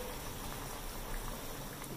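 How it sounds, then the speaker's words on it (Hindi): Masala with potatoes and peas boils in a pot, a steady dense bubbling and simmering that fills the whole stretch at moderate volume, with no speech. "तो यहाँ हमारा मसाला जो है वो उबल रहा है"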